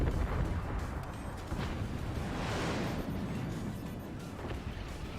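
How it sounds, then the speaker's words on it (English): Cannon fire and explosions in the physics-based RTS game Forts during a pro league match, a continuous dense roar of blasts and rumble throughout. "And the cannon follow-up."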